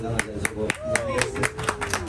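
A crowd at a local stage dance show claps in a lively rhythmic beat, a few sharp claps standing out, while a voice or song line sweeps across behind it.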